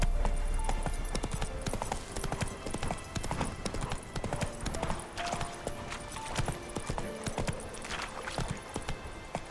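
Roach, the horse in The Witcher 3, gallops with rapid, rhythmic clip-clop hoofbeats, loud and close, running steadily throughout.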